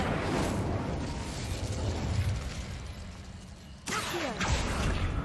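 A fire spell cast in the Hogwarts Legacy video game, a loud sustained roaring burst with crackling bursts and a sharp flare near the end, amid dense game effects.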